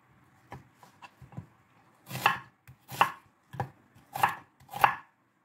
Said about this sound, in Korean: 큰 양파는 하나만 해주세요. 바닥에 깔을 거니까 도톰하게 썰어주세요.